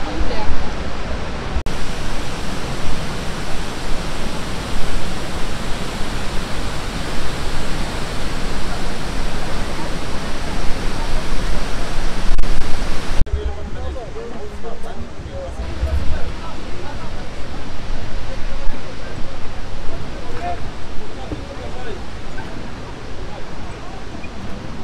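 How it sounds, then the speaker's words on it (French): Ouzoud waterfall roars up close in Morocco, a dense, loud, steady wash of falling water that softens slightly partway through as the listener shifts position, with occasional voices buried beneath it. "nous allons emprunter ces radeaux, s'approcher au plus près de la cascade"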